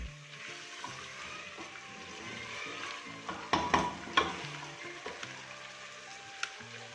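Chicken pieces with finely sliced ginger sizzle steadily in a pan as they are browned for a curry, with a few louder scraping stirs partway through and no talking.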